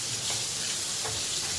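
Masala being sautéed in a pan for masala upma, a steady soft sizzle and frying hiss with faint stirring, fairly quiet and continuous with no voices.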